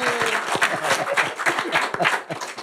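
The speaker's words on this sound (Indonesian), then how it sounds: "tepuk tangan buat Irfan" Studio audience applauding on an Indonesian talk show, dense sustained clapping from a crowd close by.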